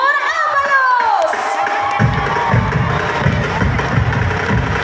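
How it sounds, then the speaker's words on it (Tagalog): A rally crowd cheers for Attorney Benhur Abalos, a loud swelling roar of shouts and whoops that rises after a sliding amplified tone and keeps going, with scattered voices inside the din. "Malakas na hiyawan muli para kay Attorney Glenhor Avalos!"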